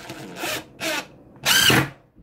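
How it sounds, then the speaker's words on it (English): Power drill driving carbon steel wood screws into a 2x4: three short whirring bursts, the last longest and loudest, close up with no talk. "We'll start by putting a few screws in this 2x4."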